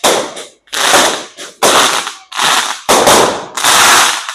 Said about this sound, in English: Now the real fireworks, we just can't see them because of the sun.